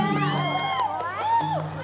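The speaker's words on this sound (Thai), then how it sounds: "บอกแล้วว่าแฟนคลับด้านหน้าที่ตะโกนมาเนี่ย" Fans at the front of a concert audience shouting and cheering, high voices swooping and whooping over a dense crowd din, loud and close throughout.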